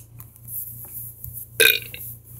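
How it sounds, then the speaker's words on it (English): Single short, sharp burp following a drink of Dr. Thunder soda, popping out suddenly against a quiet room with faint background noise before and after. "Best burp so far."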